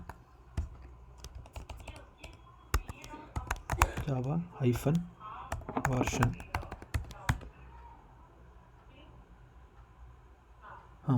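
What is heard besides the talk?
typing on a computer keyboard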